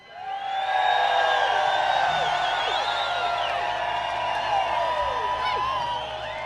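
Festival crowd at the Telluride Blues & Brews Fest cheering loudly and continuously, with whoops and shrill whistles rising over a dense roar that swells quickly and then holds steady.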